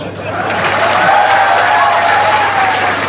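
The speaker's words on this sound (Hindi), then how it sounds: "आप लोग जोरदार तालियां बजाओ" Loud, sustained applause from a large audience at a comedy show, dense clapping filling the whole stretch with a faint murmur of crowd noise.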